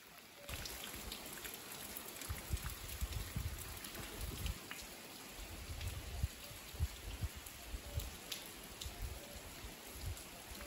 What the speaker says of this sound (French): je suis arrivée ici sous la pluie